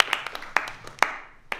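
Scattered, separate claps from a few audience members at a student talent show, several sharp hand claps spaced unevenly over a quiet room, fading out as the applause ends.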